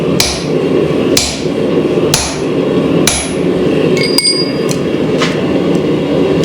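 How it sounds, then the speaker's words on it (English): A blacksmith drives a punch through steel with a heavy hammer, giving loud, ringing metallic strikes at a steady rhythm of about one per second, followed by a few lighter taps. "I'm just going to drive this punch through the steel"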